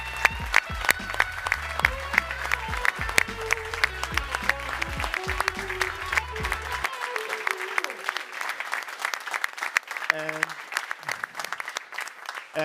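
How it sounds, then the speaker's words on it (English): Conference audience applause, dense and steady throughout, with music playing underneath at first and a few scattered voices in the crowd. "So give them a really big applause so that they can actually hear it"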